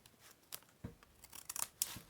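Scissors snip through paper for a junk journal project, a few short crisp cuts and rustles close by in a quiet room.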